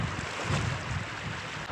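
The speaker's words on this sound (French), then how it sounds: "il y a encore un peu de vent" Wind at a beach in Chile rushes steadily and loudly into the microphone, a dense, rumbling buffet with no voices present.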